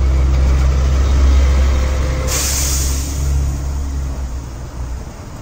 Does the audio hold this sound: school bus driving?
yes